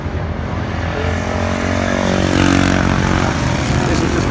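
A BSA Rocket 750 triple motorcycle on a warm-up lap at Cadwell Park, a steady, loud engine drone that swells slightly toward the middle before holding level, with no voices over it.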